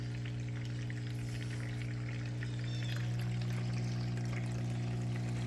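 Water rushing steadily through a cleanup sluice lined with carpet matting, washing gold-bearing material for flour gold in Wisconsin, a continuous close trickling wash over a low pump hum, with no talking.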